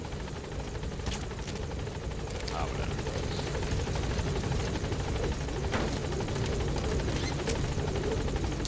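A helicopter in Metal Gear Solid V: The Phantom Pain drones at moderate level with a steady rotor buzz throughout, overlaid by brief game sounds and clicks, while people talk nearby.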